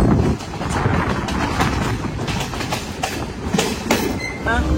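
A crowded Sri Lankan passenger train runs along its rails with a loud steady rumble and rhythmic clickety-clack, wind buffeting the microphone and faint wheel squeal near the end.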